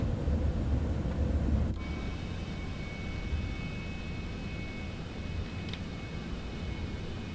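Aircraft thrust reversers in Microsoft Flight Simulator 2024 roar as a loud, broad engine rush that abruptly drops off, leaving a steady, lower jet whine with a faint high tone.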